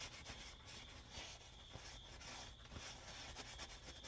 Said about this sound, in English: rub the boot.